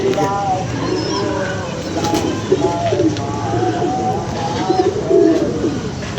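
Pigeons coo steadily through a loft of a pigeon-keeping master in a mixed flock, their soft repeated calls layered over background chatter and people talking nearby.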